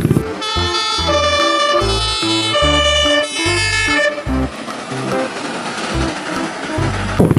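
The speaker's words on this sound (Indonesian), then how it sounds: "ini ada mobil pemadam kebakaran lagi teman-teman" A toy fire truck sounds its siren, an electronic up-and-down melody with bright tones over a rhythmic low pulse, loud and close before it fades into clattering play noise.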